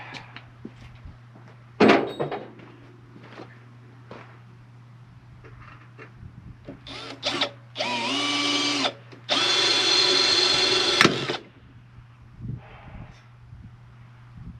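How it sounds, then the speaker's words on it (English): Harbor Freight power drill punching a couple of holes in a mount for an equipment box: two sustained whining drill bursts around the middle, with clunks, handling knocks and a steady low hum before and after; no talking. "We're just going to punch a couple of holes. If we can get the drill to quit walking."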